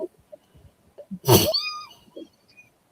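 One sharp, loud sneeze cuts through a quiet room, with brief soft speech before and after it.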